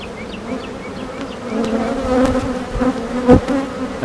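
Honeybees hum loudly and continuously around an open beehive, their buzzing drone swelling closer as individual bees pass near, with a few light knocks of hive equipment.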